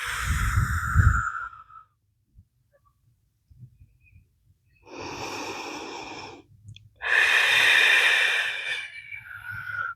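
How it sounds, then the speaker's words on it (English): Slow, audible breaths accompany a yoga neck stretch: a strong breath at the start, then after a quiet pause two long breathy exhales, close and alone without talk. "Breathe."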